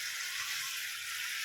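Flat beans go into a pot of boiling mustard-poppy seed paste, raising a steady, close hiss of sizzling and bubbling that holds at an even level without pause.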